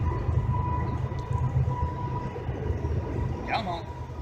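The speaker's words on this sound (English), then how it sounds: "say hello to the train." A train rumbles past nearby in a steady, loud roar with a brief high squeal near the end, a person speaking faintly under the noise.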